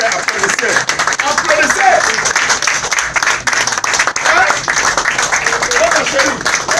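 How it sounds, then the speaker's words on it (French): A church congregation claps and applauds continuously at a prophet's service, a dense, lively wash of many hands with voices and cheering mixed through the crowd noise. "Il faut applaudir. C'est le rêve. Applaudissez."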